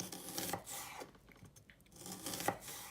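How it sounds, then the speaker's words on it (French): A small onion being cut with a knife for a potato dish, making rasping, chopping strokes in two bursts separated by a quieter pause, close and fairly loud with no talking. "Donc là on découpe. Voilà, donc là on a un petit oignon qui est découpé."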